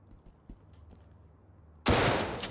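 A single loud blast bursts in after a quiet stretch with low hum, then sustains as a dense, noisy roar with further sharp hits.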